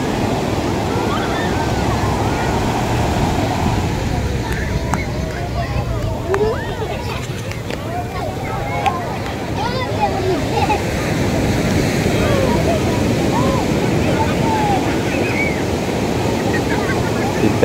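Ocean waves roll in at Teluk Bayu beach in a steady, close wash of surf blended with wind, continuing under people talking.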